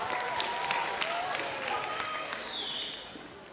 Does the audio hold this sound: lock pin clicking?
no